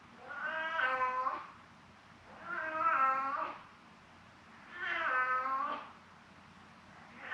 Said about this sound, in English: Can you hear Stu's meowing?